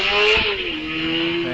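A sidecar racing outfit at Wiscombe Park hillclimb accelerates hard, a loud close engine note climbing steadily in pitch over a short burst.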